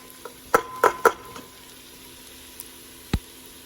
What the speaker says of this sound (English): And stir all that in there.